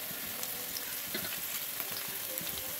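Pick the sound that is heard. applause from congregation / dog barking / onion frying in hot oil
onion frying in hot oil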